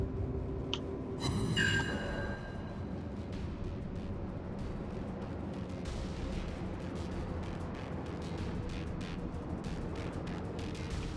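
Naval gunfire in the World of Warships game during a ranked battle: a sharp burst of shots near the start, then a long low rumbling tail under steady engine and ocean ambience, no talking.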